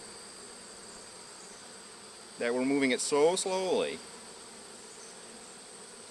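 Honeybees in a modified Warré hive give off a faint, steady buzz that continues throughout, while someone speaks briefly over it partway through.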